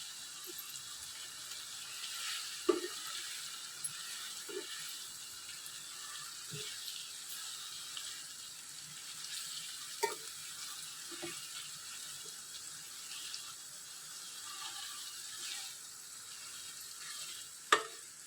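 Onion paste sizzles in hot oil for a fish gravy, a steady soft frying hiss with a few sharp pops and spatters scattered throughout.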